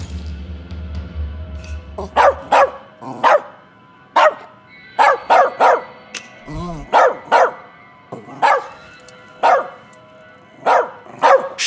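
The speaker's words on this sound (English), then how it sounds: "He's a dog. He doesn't have an off switch." A dog in the As Dusk Falls video game barks loudly and close, about a dozen sharp separate barks in an uneven rhythm, with a brief whimper partway through and low murmuring talk at the start.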